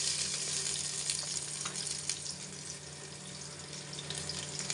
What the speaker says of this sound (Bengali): হাঁড়িতে সরিষার তেল পেঁয়াজ ভেজে নিচ্ছি।